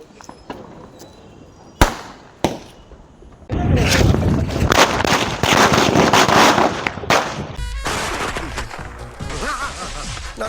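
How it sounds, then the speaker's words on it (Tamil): A string of firecrackers goes off for Diwali in Tamil Nadu, a few sharp single bangs first, then a long dense crackling burst of rapid loud pops that keeps going, with voices faint underneath. "இப்போ நான் வந்து சரம் போய் வெடி போடுறேன்"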